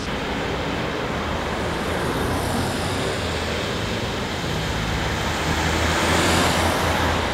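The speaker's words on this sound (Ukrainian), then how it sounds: "Водій виїжджають на зустрічну смугу, аби оминути розкопану ділянку дороги." Cars passing a dug-up stretch of road with potholes in Chernivtsi, forming a steady roar of nearby traffic with tyre and engine noise and no talking.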